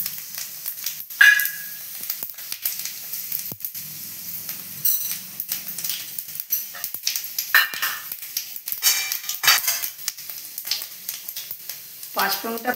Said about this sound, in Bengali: নিয়ে তেল দিয়ে এই যে 5 ফোড়ন দিলাম